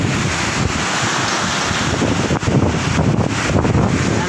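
Strong, steady typhoon wind roaring without pause, loud and close, buffeting the microphone with continuous gusty noise.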